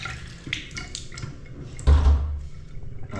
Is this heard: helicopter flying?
no